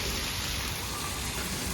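Rain pours down in a rural village, a loud, unbroken wash of drops hissing close by with no talking.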